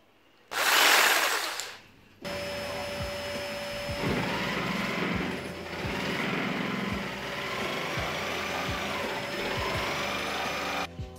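An electric saw cuts through a desk board, a loud steady whine running for several seconds after a brief louder burst at the start, close up with a faint rhythmic knocking beneath it and no speech.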